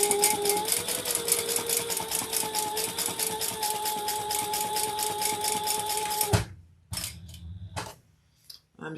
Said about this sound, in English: I'm just going to do some chain stitching.